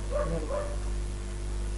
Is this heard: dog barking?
yes